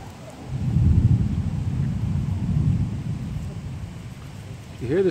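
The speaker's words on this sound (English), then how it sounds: "You hear the thunder?" Deep rolling thunder rumbles for several seconds, swelling and fading, with a brief voice near the end.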